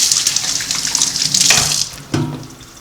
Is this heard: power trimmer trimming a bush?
no